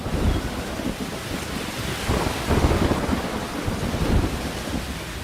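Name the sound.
thunder and heavy rain during lightning strike on Dwarkadhish temple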